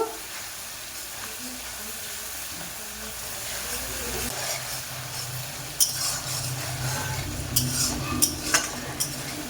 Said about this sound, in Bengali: মশলাকে কষে নেব